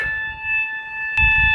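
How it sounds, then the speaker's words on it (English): A loud fire alarm holds a steady piercing multi-tone ring, with low rumbling thuds underneath. "The fire alarm is going off"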